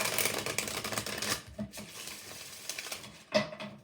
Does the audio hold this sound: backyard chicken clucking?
no